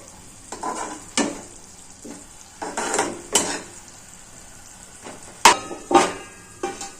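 Eggplant being stirred into tamarind-leaf chutney in a pan: a soft frying sizzle broken by spaced scrapes and clinks of a utensil against the pan, close by.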